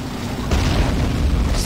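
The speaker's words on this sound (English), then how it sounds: "maybe I can throw a tank grenade." Tank grenade explosion in the Men of War: Assault Squad game, a loud booming burst about halfway through that rolls into a dense rumble, set against ongoing battle noise.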